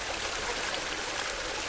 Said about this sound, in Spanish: Este agua procede de un manantial que está como unos 600 metros monte